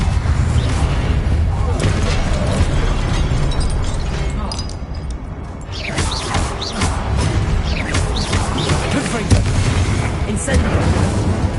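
Repeated fire spell blasts in the Hogwarts Legacy game, loud bursts and booms over a dense, continuous battle din with other spell effects and a voice shouting spell names throughout.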